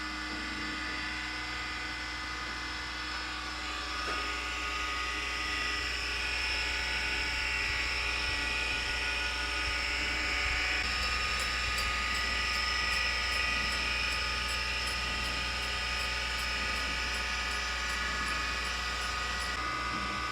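A metal lathe turns steadily as a rotating grinding wheel makes repeated passes to cut a left-hand tap thread, producing a continuous loud machine hum and whine that runs unbroken with no talking.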